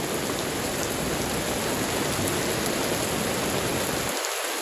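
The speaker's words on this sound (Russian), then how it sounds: "Несмотря на такой дождь, это воды." A heavy rain downpour pours steadily on a fishing trip, a dense, loud and unbroken hiss of falling water close around, with no voices.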